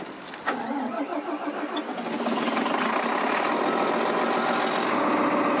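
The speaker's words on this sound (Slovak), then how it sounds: "motor běží pomalu a zahřívá se" A diesel power generator's engine cranks with a sharp start and then settles into a steady, loud mechanical running drone that holds through the rest of the clip.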